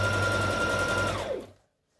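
Sewing machine running fast as it zigzag stitches elastic onto a body suit, a steady close whirring hum that winds down and stops about three quarters of the way through, followed by silence.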